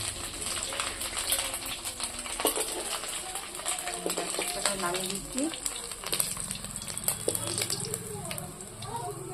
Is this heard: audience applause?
no